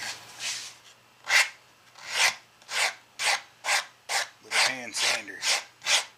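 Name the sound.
hand sander sanding maple guitar pickup ring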